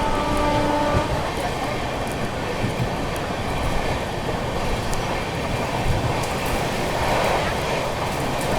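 CR Rajdhani Express overtaking the Telangana Express at Dabra, heard as a steady, loud rumble of rolling wagons with faint clatter, continuous throughout with no clear break.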